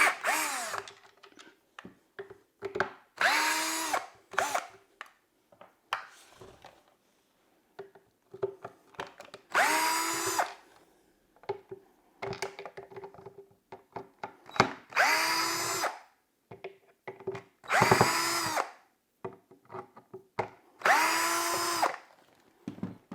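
Cordless power screwdriver fitted with a Torx 10 bit backs screws out of a Bosch PowerPack Performance frame e-bike battery casing, giving six loud whirring bursts separated by short gaps with handling clatter between them.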